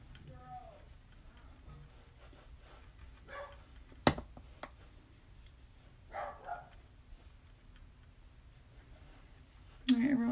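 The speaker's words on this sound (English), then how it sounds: "I have no idea what they're barking at." A few faint barks from dogs some distance away, scattered across an otherwise quiet room with a sharp click and a brief rustle.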